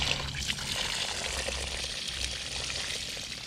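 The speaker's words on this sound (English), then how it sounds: "And just rinse it." Water rinsing through a JLT air filter, a steady close trickling and pouring stream that runs continuously, moderately quiet, with no talking.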